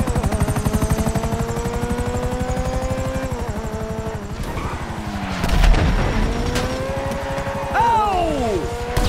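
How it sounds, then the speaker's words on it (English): A helicopter in Grand Theft Auto V thrums with a fast, steady rotor chop, loud and close, mixed with engine whine and a few bursts and booms partway through. "Great! Another chopper!"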